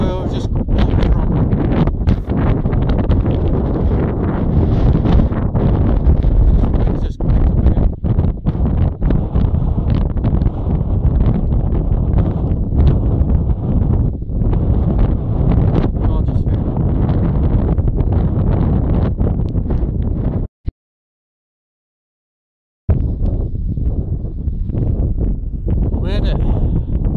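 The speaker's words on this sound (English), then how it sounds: "Very windy in the Lake District." Strong, gusty wind on Helvellyn in the Lake District buffeting the microphone in loud roaring bursts, broken by a brief moment of silence near the end.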